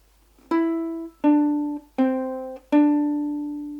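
Ukulele picking the first four notes of Mary Had a Little Lamb, four clear plucked notes at an even pace, each ringing briefly, played alone and close.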